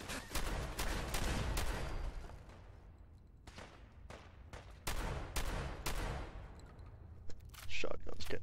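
Shotgun fire in the video game Fallout 4: a series of loud, sharp blasts at irregular intervals, with quieter gaps between the shots.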